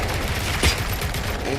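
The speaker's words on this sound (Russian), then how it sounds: "Мой пулемет готов." Machine gun fire in the shooter game RoboCop: Rogue City, a steady dense rattle of rapid shots with one heavier burst in the middle, loud and close throughout.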